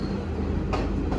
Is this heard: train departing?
yes